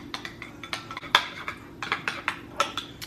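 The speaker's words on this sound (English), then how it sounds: "Give it a good mix." Crab cake mixture of crab and kosher salt being stirred in a bowl, with a utensil clinking and scraping against the bowl in quick irregular strokes, close and fairly loud, no voices.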